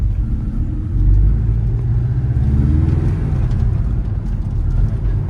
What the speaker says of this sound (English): We're rolling through the gears.